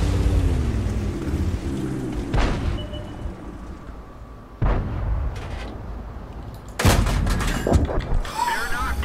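Tank cannon shots and distant artillery fire in World of Tanks, heard as a few loud booms spaced apart around a T1 Heavy, with a rumbling battlefield bed between them.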